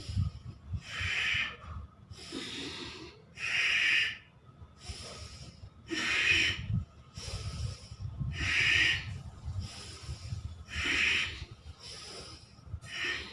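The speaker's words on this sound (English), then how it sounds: "Every breathe out, contract the navel region. Inhale up." Slow, deliberate breaths from a guided breathing exercise for seniors, with long inhales and exhales repeating roughly every two to three seconds, close and fairly loud against a quiet background.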